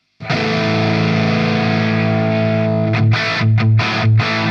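Electric guitar through a Mesa/Boogie Mark V on channel 2 edge mode, voiced like a Plexi: a loud sustained distorted chord, then a few choppy, muted rhythmic strums near the end.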